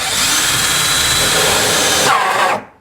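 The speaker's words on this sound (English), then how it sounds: "I got a little drill bit on there with a hole saw. So I'll drill the hole." A power drill whines loudly and continuously as a hole saw grinds through a boat's material during a Lowrance Sonic Hub install, then winds down and stops.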